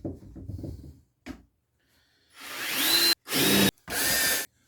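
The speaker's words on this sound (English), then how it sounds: "then I want to countersink, and then I'm going to put a 3-inch screw in there" A power drill countersinks and then drives a 3-inch screw into clamped wood, three loud sustained whirring bursts separated by brief pauses, following an earlier stretch of talk and softer handling sounds.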